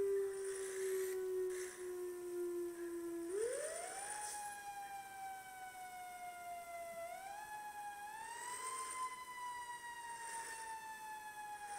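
A fire engine siren in a training simulation starts as a low steady tone, sweeps upward into a rising wail, dips and climbs again, sounding alone and moderately faint with a slightly synthetic, clean quality.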